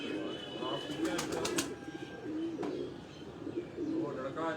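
Pigeons cooing on a rooftop, soft low coos repeating close by while people talk over them, with a few brief chirps.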